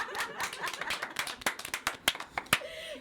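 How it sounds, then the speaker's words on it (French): Scattered clapping from a small audience at a French-language community event, a few hands clapping irregularly and close by, with sharper isolated claps toward the end. "On applaudit Samia, oui"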